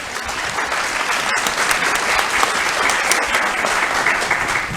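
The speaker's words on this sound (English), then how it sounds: "let me ask you for a big applause for our panel" An audience applauds a conference panel at a policy and practice event, with steady, dense clapping that holds evenly throughout with no voices over it.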